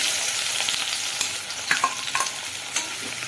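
Onions frying in hot oil with bay leaf and dried chili, a steady close sizzle with occasional scraping stirs from a spatula, no voices.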